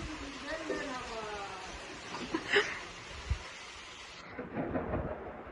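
Steady rain hisses throughout in a village, with a low rumble and faint voices in the background, and a few louder splashes or knocks mixed in.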